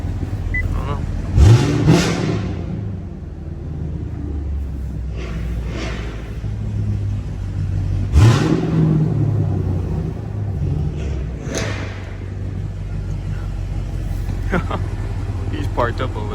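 Camaro SS 1LE with a manual gearbox and V8 engine revs twice in short bursts during a midday city cruise, a deep rumble between the rises, with people talking over it.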